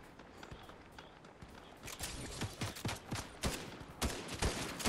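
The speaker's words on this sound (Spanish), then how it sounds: "¿Quién me dispara? ¿Quién me dispara? Hostia, me disparas tú." Video game gunfire aimed at the player: faint at first, then a series of sharp rapid shots and impacts in irregular bursts, growing louder toward the end.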